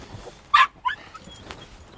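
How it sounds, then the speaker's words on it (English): A dog barks in a couple of short, sharp bursts on arriving for an agility class, close by, with faint background noise between them. "When we turn up in a car, she's like barking"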